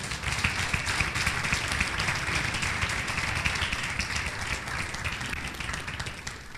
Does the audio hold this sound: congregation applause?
yes